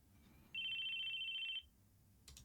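A mobile phone ringing in the video game Chaos;Head Noah: a single sustained electronic trill lasting about a second, clear and fairly loud over a quiet background, followed by a brief soft click.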